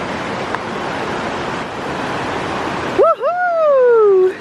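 A river flows with a steady broadband rush of water for about three seconds, then a voice lets out a rising and falling whoop over the quieter flow.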